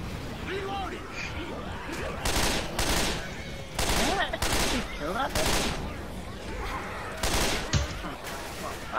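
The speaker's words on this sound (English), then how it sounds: "I think we both fired at the same thing" Repeated bursts of gunfire in the zombie shooter Left 4 Dead 2, loud and close, coming in several clustered volleys with short gaps, while players talk over the shooting.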